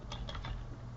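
A few quick, soft keystrokes on a computer keyboard, heard as faint close taps over a low background hum.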